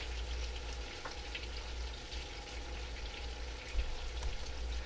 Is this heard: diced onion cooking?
yes